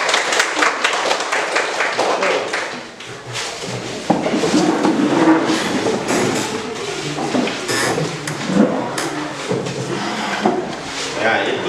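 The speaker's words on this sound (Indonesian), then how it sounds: "Ya, oke, tepuk tangan." Group of people in a Catholic religious education class clapping hands together, a dense burst of applause with voices talking over it throughout.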